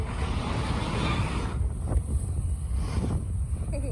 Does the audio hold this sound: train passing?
no